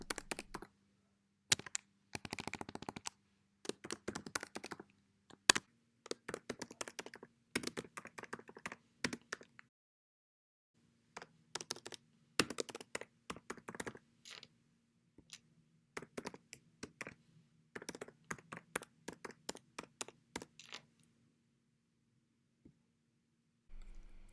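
Rapid bursts of computer keyboard typing as an address is entered, with clustered key clicks separated by short pauses and occasional louder keystrokes in a quiet room.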